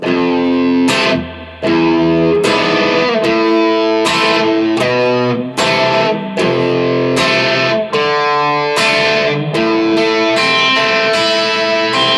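A distorted electric guitar strums the chorus chords in a steady, driving rhythm, loud and close, with strong sustained tones between each struck chord and no voices.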